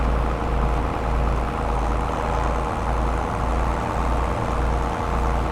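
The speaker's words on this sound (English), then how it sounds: "Completely destroying it with the mulcher." A tractor with a mulcher working a field in Farming Simulator 22, a steady, dense engine drone with a broad grinding roar, continuous and close with faint rhythmic low pulses and no talk.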